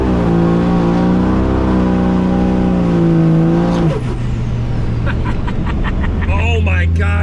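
A 1000HP Cummins diesel truck pulls hard, its engine droning loud and rising in pitch, then dropping sharply as the gear changes and climbing again, heard from inside the cab.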